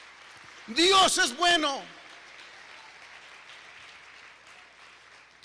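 Church congregation applauding, a soft, diffuse patter of many hands that continues after a brief spoken phrase and holds at a modest level to the end.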